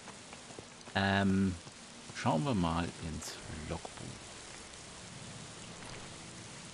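Steady rain hisses as a continuous wash of noise throughout a scene in the video game Gothic I, with someone talking over it and a brief game jingle near the start.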